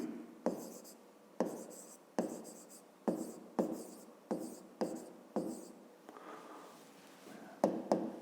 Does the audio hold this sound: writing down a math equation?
yes